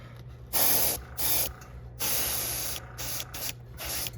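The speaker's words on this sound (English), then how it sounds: "if you spray it on too heavy" Spray paint hisses from a can onto a hot pink topwater popper fishing lure in several short, loud bursts separated by brief pauses, with a faint steady hum underneath.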